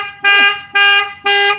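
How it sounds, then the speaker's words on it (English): Car alarm blaring three loud, sustained electronic honks, each about a third of a second long and spaced evenly, close by and harsh. "Alarm."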